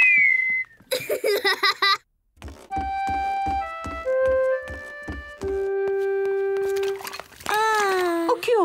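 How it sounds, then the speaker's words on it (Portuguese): Clear, high whistled notes from a cartoon character held in a steady sequence, with short giggly bursts at the start and a wavering whistle at the end. "George consegue assobiar."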